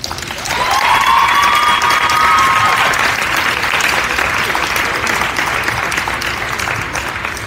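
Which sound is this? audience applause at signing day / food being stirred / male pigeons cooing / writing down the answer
audience applause at signing day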